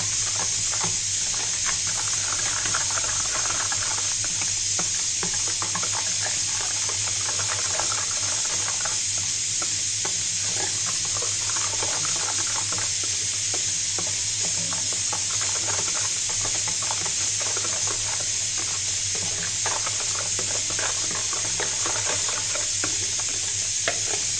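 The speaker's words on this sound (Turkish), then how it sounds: "Evet güzelce çırpıyoruz tekrar." Cake batter for a Turkish köstebek cake being whisked by hand in a bowl, a steady close scraping and swishing that continues without pause, no voices.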